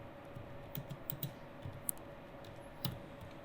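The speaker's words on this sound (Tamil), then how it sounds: "ஒரு டெக்ஸ்ட்டை டைப் பண்ணிக்கிறேன்" Fingers type text on a computer keyboard, producing soft, irregular clicks and key taps at close range over a quiet room hum.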